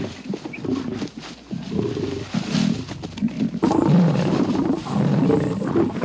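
Male lions fight over a lioness in African wildlife, with loud, close, overlapping roars and snarling growls rising and falling continuously, and no talking.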